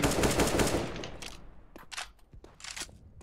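Automatic gunfire in CS:GO rattles in a fast loud burst, then a few scattered sharp shots and clicks follow at a quieter level.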